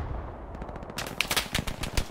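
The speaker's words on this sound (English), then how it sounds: "Oop, gunfire." Rapid gunfire crackles in a sniping video game, a quick series of sharp automatic shots, close and fairly loud.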